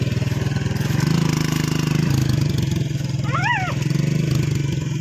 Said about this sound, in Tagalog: May motor oh.